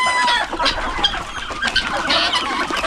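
Backyard farm chickens and ducks cluck and squawk in a busy, overlapping chorus, close by and fairly loud, with short repeated calls throughout and no talking.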